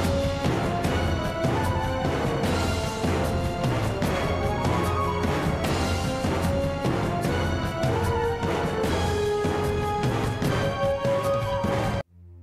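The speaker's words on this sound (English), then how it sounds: "smashing Scuttlechuck crystals yields raw material" Scuttlechuck crystals being smashed in the video game Pikmin 4, repeated percussive cracking hits layered over steady game music, loud and continuous until the sound cuts off near the end.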